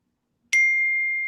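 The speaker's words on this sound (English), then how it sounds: "Somebody's ringing a bell here." A single bell strike rings out in a quiet studio during a live sports handicapping broadcast, a bright ding with a long, steady sustained tone that lingers without fading.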